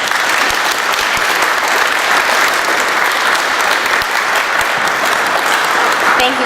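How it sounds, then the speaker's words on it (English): Loud, continuous applause from an audience at a Million Women Mentors Iowa launch honors Executive Council members, dense clapping holding steady throughout with a murmur of voices beneath. "so we could give you a round of applause"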